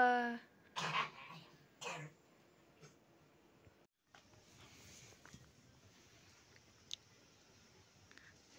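Coughing and throat clearing near a cowshed on a Nepali hillside, a few short harsh bursts early on, then quiet outdoor ambience with faint scattered noises.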